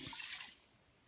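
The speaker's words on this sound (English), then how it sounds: "And add your water to begin cooking." Water is poured into a pot of rinsed rice, a brief splashing rush that is loudest at first and then fades quickly to a quiet tail.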